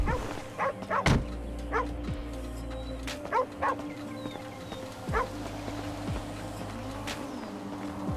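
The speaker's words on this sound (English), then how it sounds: "you can hear a dog barking." A ghost dog in the video game GTA V barks in short, sharp bursts spread across the stretch, mixed with hoof-like clops and game ambience, with no talk.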